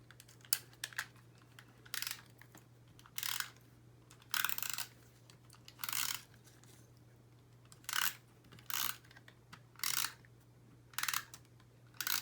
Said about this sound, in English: this time I'm actually going to use my tape runner